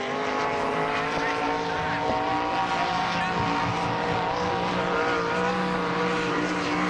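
An All Star Circuit of Champions sprint car works around the dirt oval at Sharon Speedway in Hartford, Ohio, its engine a continuous loud roar for the whole stretch with a commentator talking over it.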